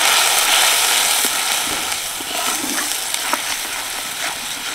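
Spice paste with turmeric, chili powder and salt sautéing in a pan, a steady broad sizzle with a few faint scraping stirs, moderately loud and close, no voices.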